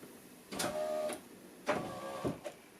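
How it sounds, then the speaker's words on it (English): An electric boot release on a classic car gives two short whirring motor bursts followed by a couple of sharp clicks, close and fairly quiet. "that noise you can hear is the electric boot release."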